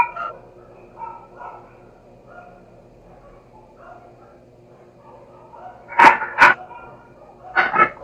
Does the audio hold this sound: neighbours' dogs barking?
yes